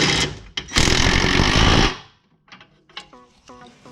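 A power tool tightens bolts on a Porsche 996 engine: short bursts followed by one loud sustained rattling run of about a second, then quieter clicks and light knocks of tool and parts.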